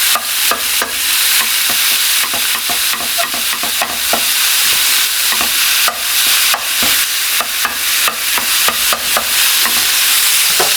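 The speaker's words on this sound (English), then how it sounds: "going to add 1 pound of ground beef to this thing" A pound of ground beef sizzles loudly in a pan, close up, while a utensil scrapes and breaks it apart in irregular repeated strokes, with no talking over it.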